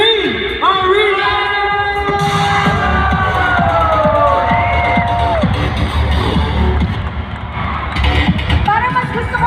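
Large crowd shouting and cheering at a campaign rally inside the Philippine Arena, a dense, loud roar filling the huge indoor space with rising whistles and cries, with a voice speaking over it.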